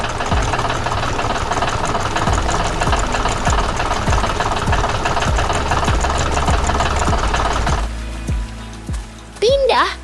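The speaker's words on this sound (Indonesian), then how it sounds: "Traktor merah berlari dengan cepat di tengah pertanian yang hidup." A red tractor engine chugs steadily on a farm, a loud, close knocking idle with a rapid rhythmic thump, briefly joined near the end by a high chirping call.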